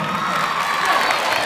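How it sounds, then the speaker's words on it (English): A youth event crowd, children among them, breaks into loud cheering, shouting and applause, a dense continuous roar close by. "Come on, give a round of applause. Come on, y'all, make some noise."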